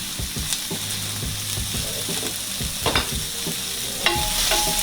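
Seasoned chicken for Parmesan chicken frying in a pan, with a steady close sizzle and crackle throughout, broken by occasional stirring clatters and small pops.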